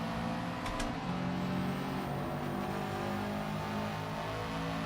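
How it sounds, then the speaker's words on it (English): A turbocharged race car in Gran Turismo 7 drones steadily through a corner, its engine note held level with a thin turbo whistle riding over it for the whole stretch. "Listen to the turbo whistle."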